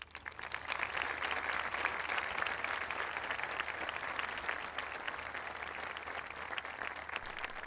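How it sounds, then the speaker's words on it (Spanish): Audience applause for the Pope at a gathering with migrant reception organizations; a broad, steady wash of many hands clapping, somewhat distant and even throughout. "El aplauso y el saludo del Santo Padre"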